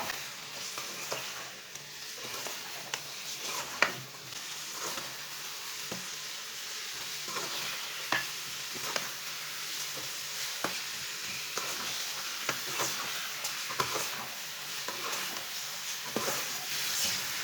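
Chicken coated in about a cup of oil sizzles steadily in a pan while a spoon stirs it, with scattered scraping clicks over a constant hiss for the whole stretch, no voices.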